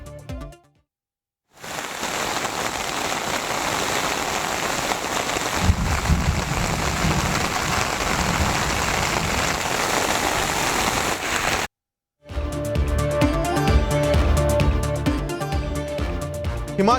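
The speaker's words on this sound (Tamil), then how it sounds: "கேரள மாநிலம் மலப்புரம் மாவட்டத்தில் கனமழை." Heavy rain pouring steadily in Malappuram district, Kerala, a dense continuous hiss of drops on surfaces lasting about ten seconds, framed by short bursts of other broadcast audio before and after.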